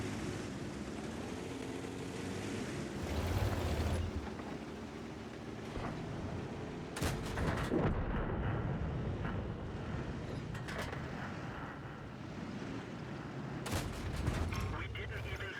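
A tank gun firing gold rounds at a Churchill tank in a video game, with booming shots under constant game noise of engines and distant gunfire.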